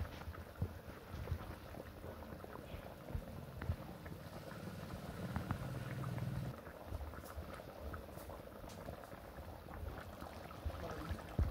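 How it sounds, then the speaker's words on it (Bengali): Egg curry gravy simmers and bubbles in a pot, a soft steady crackle of small bursting bubbles with occasional louder pops, fairly faint and close. "এবার আমরা কিছুক্ষণ ঝোলটিকে ফুটিয়ে নেব।"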